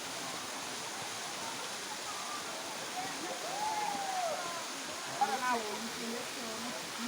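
Bom Sucesso waterfall in Pirenópolis, Goiás, which falls into a pool seven metres deep, gives a steady broadband rush throughout, with a few faint tonal calls above it.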